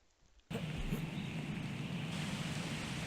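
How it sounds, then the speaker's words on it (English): Rain and wind from a student video game start abruptly after a brief quiet moment, becoming a dense, steady hiss of rainfall with a low rumbling wind that holds constant throughout. "you've got different rain and wind sounds depending on the level of the rain and wind"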